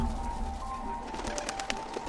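Pigeons coo in a period war drama scene, soft repeated calls over a steady low ambient hum with some faint fluttering or rustling noises.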